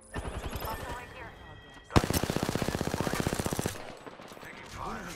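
Rapid automatic gunfire in the battle royale game Apex Legends, a fast rhythmic burst of shots running about two seconds after an earlier stretch of quicker firing, loud and close, with a voice heard talking around it.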